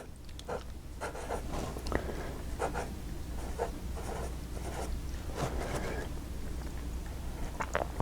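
Fountain pen with a specialty nib scratching across paper, a series of soft close strokes and taps in irregular rhythm over a low background hum.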